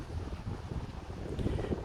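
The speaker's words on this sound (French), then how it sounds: "Il y a du vent." Wind gusting outdoors in a vineyard in the Grand Est region of France, a steady roaring buffet of air against the microphone with no speech.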